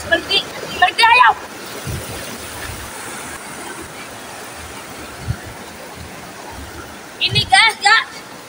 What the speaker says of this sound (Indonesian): arusnya sangat besar sekali